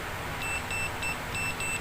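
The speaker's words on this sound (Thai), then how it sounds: "ผมตั้งไปในย่านเสียงนะครับแบบนี้เสียงจะเป็นขีดอย่างนี้นะครับ" A digital multimeter's continuity beeper, used while wiring an air-conditioner fan, gives a series of short, thin electronic beeps in an uneven pattern, partly masked by steady broadband noise.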